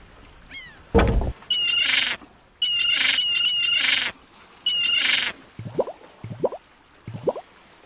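A bird squawking in The Secret of Monkey Island video game, with several bursts of harsh squawks and chirps in an uneven rhythm, followed by short rising bubbly calls, loud and close with no talk.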